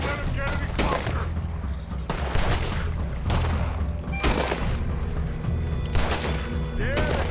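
Repeated loud gunshots and rapid volleys of gunfire in a Red Dead Redemption 2 shootout, sharp blasts every second or so over a busy background, with voices shouting in between.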